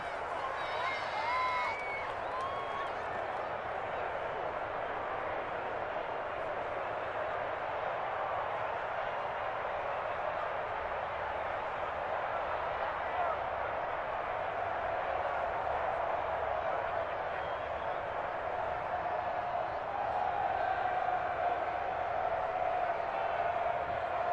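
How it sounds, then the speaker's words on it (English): A large stadium crowd at a Broncos at Chiefs football game roars in a sustained, far-off wash of cheering and noise, broad and steady with a slight swell toward the end. "Listen to this crowd now."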